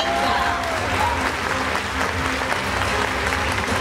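Audience at a Tokyo International Film Festival stage greeting for the GARO film greets the cast with sustained, loud applause, a dense continuous roar of many hands clapping in a theater.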